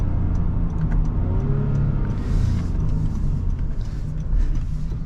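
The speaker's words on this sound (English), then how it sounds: "I just love Honda V6, that raspy V6 sound" A 2023 Honda Pilot's V6 engine hums and rumbles steadily while the SUV is driven in the evening, a constant mid-pitched drone with mild rises under road noise and no talk.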